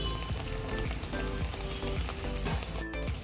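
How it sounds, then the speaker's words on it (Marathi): Sabudana vada frying in hot oil, a dense continuous sizzle with scattered crackles and pops, close and steady for a few seconds. "आपण दुसऱ्या बाजूने त्याला तळून घेऊया।"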